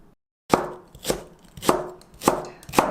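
Five sharp, evenly spaced knife chops on a cutting board through vegetables like chilli, green onion and ginger for soybean sprout and dried pollock soup, each strike crisp and close, with quiet gaps between.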